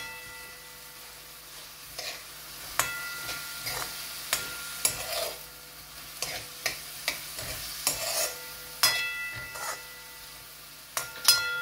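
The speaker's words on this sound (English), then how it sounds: "while I'm waiting on the tomatoes to simmer up" Tomatoes and spices sizzle in hot ghee in a pan for dal tadka. A steady hiss runs under repeated scrapes and clinks of a spoon stirring, close and moderately loud, with no talking.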